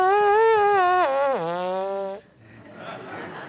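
Buzzing lips, as for playing a brass horn: one close, loud, reedy tone that wavers in pitch and then slides downward before stopping abruptly, leaving faint room noise.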